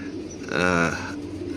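A single drawn-out coo from a racing pigeon in a loft, fairly close and clear, rising and falling over about half a second against a low background hum.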